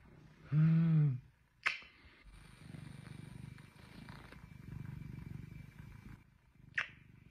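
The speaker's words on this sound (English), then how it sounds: "Calling my cat for a nap." A house cat purrs briefly at nap time, a low rumbling burst near the start, followed by soft, steady low purring and two sharp clicks.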